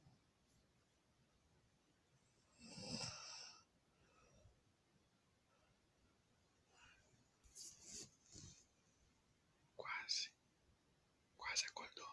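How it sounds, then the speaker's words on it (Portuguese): A woman snoring while asleep, low and quiet: a breathy snore around three seconds, then several short snorting breaths toward the end, with faint hiss between them and no talking. "Só um pouquinho do ronco dela."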